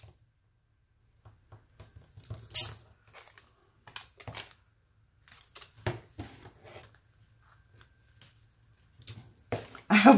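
Sporadic snips of sticky scissors cutting paper, a scattering of crisp close cuts separated by quiet gaps, with light rustling and handling between them.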